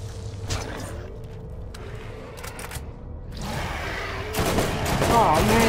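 Gunfire in the Borderlands video game, bursts of rapid shots and mechanical clatter that grow denser and louder toward the end, with a player's voice talking over parts of the fight.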